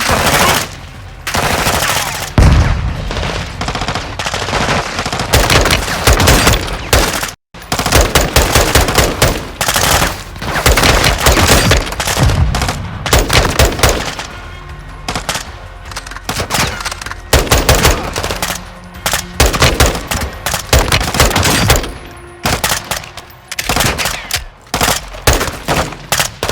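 Heavy gunfire during a Modern Warfare II prison-break mission: loud, dense automatic bursts and rapid shots nearly nonstop, with one brief silent gap and faint voices mixed underneath.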